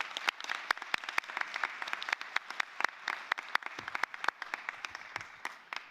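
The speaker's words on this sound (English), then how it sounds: "Let me ask you all to give everybody a big round of applause as you go on to the rest of your afternoon." A conference audience applauds steadily with dense, overlapping hand claps that hold an even level throughout, with a few sharper individual claps standing out near the front.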